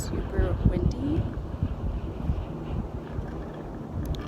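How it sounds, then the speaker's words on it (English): Strong outdoor wind buffets the microphone as a steady low rumble throughout, set on a boating and beach day, with a voice talking over it near the start. "it's super windy"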